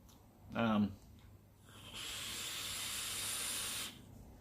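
A vaper draws hard on an Apocalypse RDA with the airflow fully open, producing a sustained airy hiss lasting about two seconds, preceded by a brief vocal sound.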